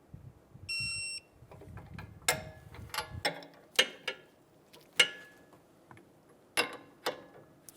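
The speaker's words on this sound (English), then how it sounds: "Torque the sway bar nut to 55 foot-pounds." Sway bar link nut on a 2007-2011 Toyota Camry tightened with a torque wrench: a short whir, then a series of sharp ratcheting clicks at an uneven pace, close and fairly quiet, with no talking.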